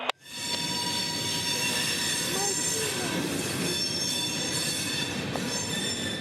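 Freight train cars being shoved back along the line by locomotives, a steady loud rumble of rolling wagons with high wheel squeal tones running throughout, close by, with no talking.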